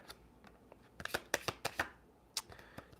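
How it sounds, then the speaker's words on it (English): Tarot cards being shuffled by hand, a quick run of crisp close riffles and slaps that starts in scattered taps and builds to a dense burst before tailing off, with no one talking. "Can I get a little bit more of a shuffle here"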